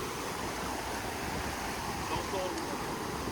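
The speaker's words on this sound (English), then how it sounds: "The waves are breaking in the shore" Waves breaking on a shore, a steady broadband wash of surf with wind noise on the microphone, continuous and fairly close with no clear individual crashes.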